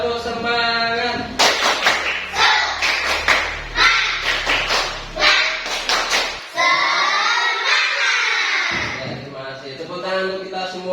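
A classroom of students clapping a rhythmic 'tepuk semangat' cheer: a quick run of sharp, patterned claps and thumps, with voices chanting along over them before the group falls quiet.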